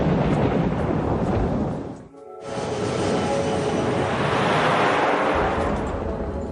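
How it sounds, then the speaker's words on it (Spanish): Heavy thunderstorm with a deep continuous roar of thunder and rain, briefly cutting out once before swelling back loud and dense. "entra en el centro de una tormenta"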